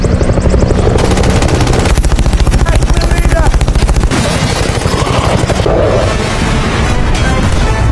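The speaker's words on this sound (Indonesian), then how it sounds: "Jacob pun tiba dan langsung memberondong peluru ke arah Caesar" Machine gun fire rattles through a film scene, a loud continuous rapid burst of shots layered with heavy rumbling and booms, dense and close throughout.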